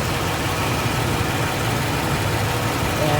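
A 2010 Ford E250 van engine runs at a steady idle just after an oil change, a continuous close, even rumble with broad noise and no talk.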